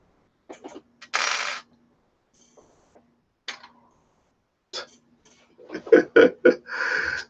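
A small O-ring for a Tevo Tarantula Pro 3D printer drops onto a hard surface, giving a few sharp, brief ticks and clicks spread across quiet stretches, with a louder run of rattling taps near the end.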